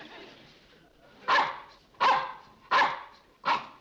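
A dog barks four times in a steady sequence, each bark loud and close and separated by short pauses, with no voices over it.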